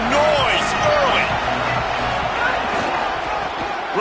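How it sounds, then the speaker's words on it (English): Stadium crowd at a Missouri football game, a loud, steady roar of cheering and shouting that fills the whole clip, with scattered voices rising above the mass noise. "This crowd bringing the energy and noise early"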